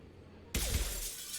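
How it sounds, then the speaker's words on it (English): A single loud glass smash in the video game Mass Effect 2, a sudden bright crash that rings out and lingers as scattered shards. "Smash the glass."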